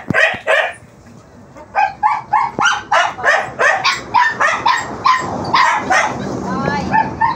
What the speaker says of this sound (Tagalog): Ingay na ingay itong mga aso na ito.